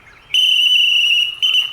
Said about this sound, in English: I'm going to separate with whistle and an induction